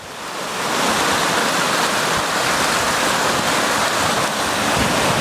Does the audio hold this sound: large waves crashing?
yes